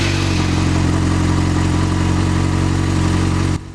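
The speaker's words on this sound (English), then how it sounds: "The stock exhaust on this bike isn't too bad." A 2009 Yamaha FZ6R motorcycle with its stock exhaust runs nearby in a loud, even engine drone that cuts off abruptly near the end.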